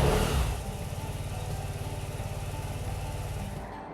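A Vespa scooter riding through Lebanon, Ohio gives a steady, buzzing small-engine drone with a fast, even pulse. It starts loud and settles to a constant level, then cuts off sharply at the end, and nobody speaks.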